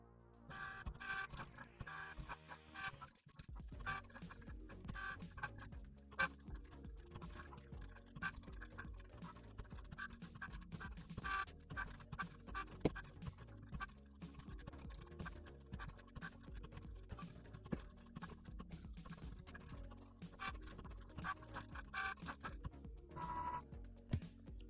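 A Cricut Joy machine cuts a pop-up card, giving a quiet, steady run of close scratchy scraping and small clicks that continues unbroken for about twenty-five seconds with no talk.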